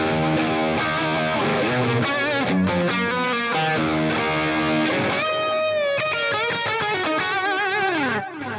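Heavily distorted electric guitar through an amp modeler plays continuous chords and riffs with a buzzy, saturated tone, loud and sustained throughout, with no talking.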